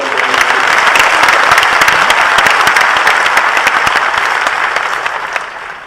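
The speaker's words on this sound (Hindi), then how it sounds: "मैं पुनः आप सबसे जोरदार ताली बजाकर उनका स्वागत करता" Loud audience clapping in welcome of a former RBI governor at a conclave event in Chhattisgarh, a thick sustained burst of applause that holds steady and then eases off near the end.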